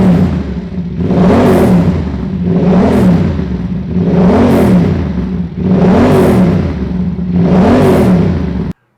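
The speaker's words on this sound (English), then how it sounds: "we'll start the bike, and we're going to warm it up." A Yamaha R7 motorcycle engine revs loudly and close, in five steady rising-and-falling throttle blips at a regular rhythm, then cuts off abruptly.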